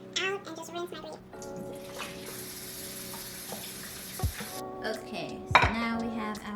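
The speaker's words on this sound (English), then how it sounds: "I'm going to now pour the vinegar water out and just rinse my plate." Vinegar water poured out of a kitchen vessel and a plate rinsed under a running tap, with steady water flow, soft splashing and a couple of dish clinks near the end over a quiet room hum.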